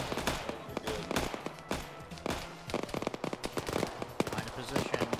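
Gunfire in a NATO versus Russian video game battle, dense rapid automatic bursts and overlapping shots crackling loudly and continuously, with voices heard among the shooting.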